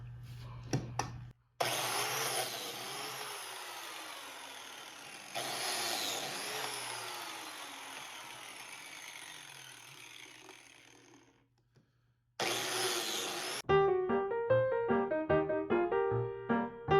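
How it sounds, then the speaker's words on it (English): A Sears industrial power tool runs in loud, steady whining bursts, with the motor starting and stopping several times. Short silences separate the runs, and a spell of music follows at the end. "This is a Sears industrial, and it's got the on-off switch on the bottom."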